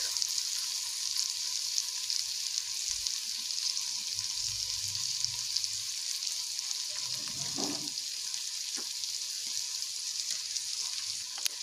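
Ginger-garlic paste and turmeric fry in a pan while cooking spiced jackfruit with prawns, a steady bright sizzle throughout with a brief stirring scrape midway, close and without talk.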